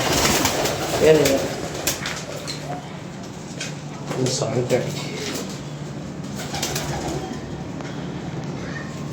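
Pet pigeons coo in soft, repeated low murmurs through most of the stretch, close by and steady under a voice talking over them.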